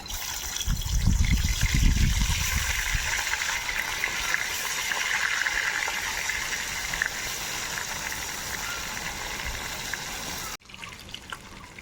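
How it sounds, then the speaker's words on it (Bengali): Pieces of rui fish frying in hot oil in a pan, a close, steady sizzling hiss with a heavier spluttering burst at first, then a constant fry that carries on evenly. "আর এবার মাছ ভেজে নেব"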